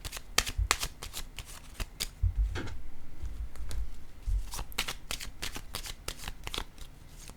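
Playing cards set down on a table one after another, a run of crisp, close card snaps and slides coming in irregular bursts with no voice.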